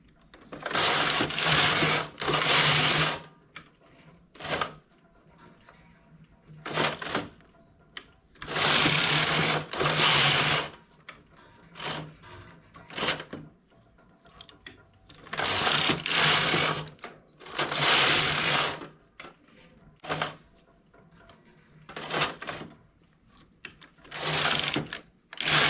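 A domestic knitting machine works a jacquard relief pattern, its carriage sweeping back and forth in loud rattling, clacking bursts with brief quiet pauses between passes, no voices.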